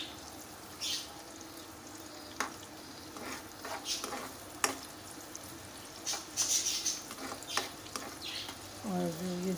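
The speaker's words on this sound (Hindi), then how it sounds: "इसको थोड़ा सा गोल्डन हल्का सा होने देंगे प्याज को।" A small chopped onion sizzles gently in hot oil in a pan for aloo baingan, a soft steady frying hiss with occasional stirring scrapes and clinks, quiet and close, with a voice briefly at the end.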